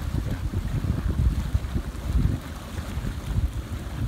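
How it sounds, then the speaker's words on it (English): Spa air blower running, pushing air through Twirly-Byrd and Para jets to make a steady low rumbling, bubbling churn of water that holds at a constant level. "So there we go with the blower."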